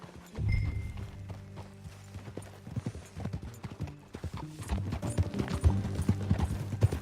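Rhythmic clip-clop of horse hooves in Red Dead Redemption 2 picking up pace into a gallop, close and fairly loud, with brief mechanical jingles and no talking.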